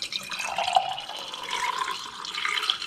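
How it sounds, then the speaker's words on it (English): Elderberry syrup poured from a pot through a funnel into half pint jars gives a steady liquid trickle and splashing that runs continuously for a few seconds, close and moderately loud, with no talking. "now we're going to pour this into some half pint jars using a funnel"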